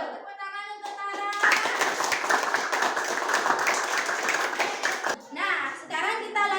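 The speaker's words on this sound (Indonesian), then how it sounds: "Tepuk tangan untuk Tara." A class of children claps for a pupil named Tara in an Indonesian school lesson on ecosystems, a few seconds of dense, close clapping between a teacher's voice and children's speech.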